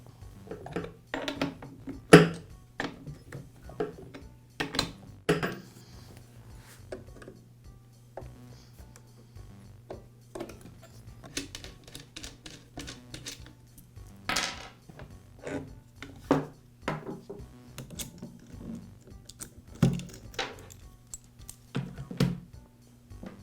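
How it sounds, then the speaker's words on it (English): Small tool clicks, scrapes and plastic rubbing while the side cover, chain and bar come off a Poulan chainsaw, quiet, scattered and irregular handling sounds up close. "I'll begin by removing the side cover,"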